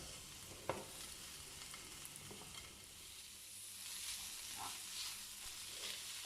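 Boiled soya chunks with about a spoonful of ketchup being stirred in a frying pan, a quiet continuous sizzle under intermittent spoon scrapes and one sharp tap near the start, close and without speech.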